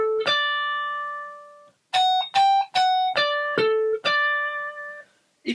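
Electric guitar plays phrase three of a song's solo, a few clean sustained notes with a long held opening tone, then a quicker run of picked notes with short gaps, played alone.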